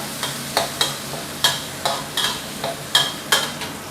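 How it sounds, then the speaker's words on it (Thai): Thai chili and herb paste sizzles in hot oil in a wok, struck by about ten crisp, evenly spaced scrapes of a spatula over a low, steady fry. "พอน้ำมันเริ่มร้อนนะครับ ก็ใส่เครื่องผัดฉาเราลงไปได้เลย ี่นะครับผัดให้เหลืองหอมก่อนนะครับ"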